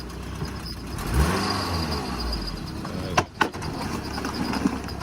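A 2010 Nissan Altima at a police towing auction lot starts and rolls forward, its engine rising briefly, then a steady mid-level hum with a couple of sharp knocks.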